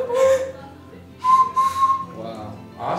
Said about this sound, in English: It's a nose whistle.